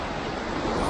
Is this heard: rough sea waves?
yes